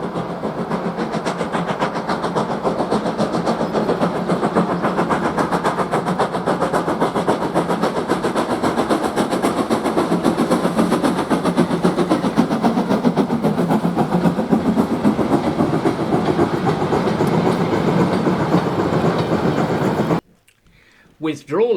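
Steam locomotive 52044, a preserved ironclad, working hard as it climbs away from Damon's Loop towards Oakworth, a loud continuous chuffing roar with rail clatter that holds steady for about twenty seconds before cutting off abruptly.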